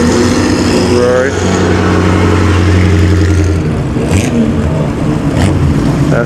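A classic Ferrari engine rumbles past at a concours event, a loud, steady drone under a voice, with other cars and crowd noise around.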